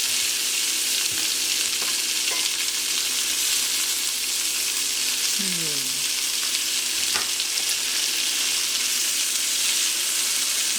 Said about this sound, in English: I'm going to take the tomato, put it in here on top of the beans.